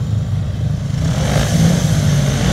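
Speedway motorcycle engine running again after a repair, a steady rough engine roar with a clattering edge, fairly loud and close, no talk over it.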